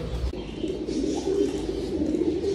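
Pigeons cooing at a mini zoo enclosure, a low steady murmur of several soft coos running continuously and fairly close, with no talk over it.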